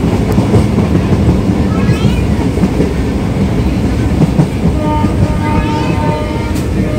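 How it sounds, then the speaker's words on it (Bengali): The Goghat local train draws into a platform with a heavy steady rumble and rolling wheel noise, faint squeals of wheels on rail rising and falling over the din, close and loud. "তো বন্ধুরা, আমাদের ট্রেন চলে এসছে গোঘাট লোকাল।"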